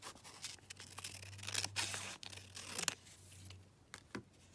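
Scissors trim paper for a collage in a quiet room, giving a few soft, close snips and sliding cuts, some longer strokes and a couple of short clips.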